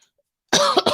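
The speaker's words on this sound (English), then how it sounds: "cough directly into the mic because I'm a monster" A single loud cough lands directly into a close microphone after a short silence, sharp and abrupt with a quick second burst.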